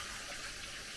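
Water runs steadily as it is poured onto rice for cooking in a home kitchen, a close, soft and continuous splashing that lasts about a second with no talk.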